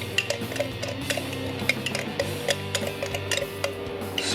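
A spoon clinks and taps against a bowl while mixing crushed red pepper into chimichurri sauce, a run of light, irregular ticks over a quiet hum.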